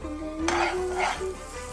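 Carrots frying in a pan while being stirred, a soft sizzle under several scraping strokes of a utensil against the pan, with a steady tonal hum running through.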